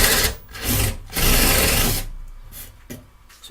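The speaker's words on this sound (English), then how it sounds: "let's see if it's able to drill a hole with it" A Bosch PS31 12V cordless drill drives a 1-inch spade bit through a 2x4, a loud, close, rough grinding of wood that surges in waves and then breaks up into scraping bursts as the cut eases off.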